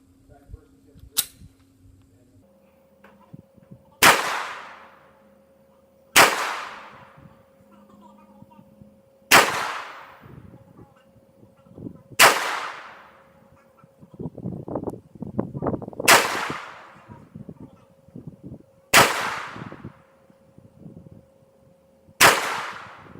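A Smith & Wesson M&P pistol fires ten rounds of 115 grain full metal jacket match ammunition at a 25-yard range, the sharp reports coming one at a time at a slow, steady pace with quiet gaps between them.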